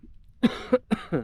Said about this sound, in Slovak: musím zrovna kašľať